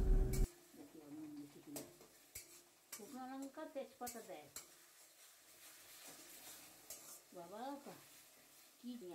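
Spice masala with salt and turmeric, cooking for a Bangladeshi egg and hilsa fish dish, is sautéed and stirred in a pan, with soft sizzling and sharp spoon taps on metal, while faint chirping, warbling tones drift in the background.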